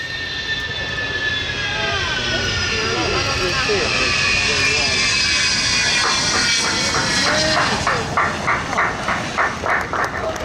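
An Avro Vulcan bomber lands at Farnborough Airshow, its jet engines giving a loud, sustained roar with a whining tone that slowly falls and pulses toward the end, heard from a distance across the airfield, with a commentator speaking over it.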